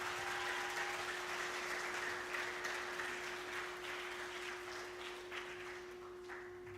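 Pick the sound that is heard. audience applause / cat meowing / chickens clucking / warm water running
audience applause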